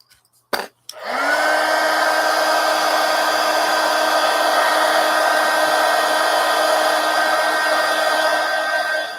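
A handheld dryer used to dry a glued napkin layer in an art journal: after a couple of brief clicks it whirs up into a loud, steady, close blowing drone with a high whine that holds to the end.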